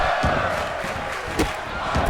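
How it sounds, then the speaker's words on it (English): A wrestling crowd at an indoor show chanting in unison, a dense roar of many voices with rhythmic rising shouts, loud and continuous across the short stretch. "The crowd chanting fight forever."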